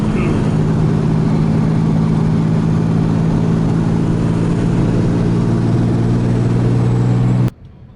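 A turbocharged Ecotec V6 Holden Commodore with a T56 gearbox holds a loud, steady drone at high revs during a roll race, close and continuous, then cuts off abruptly near the end.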